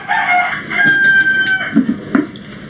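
A rooster crows loudly and close by, one long drawn-out call followed by a couple of short clucking notes.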